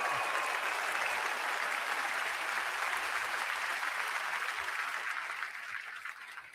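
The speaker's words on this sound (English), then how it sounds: "Round of applause for Nishta." Audience applause at a Google I/O event after a live smart glasses demo, a broad sustained wash of clapping from a large crowd that tapers off near the end.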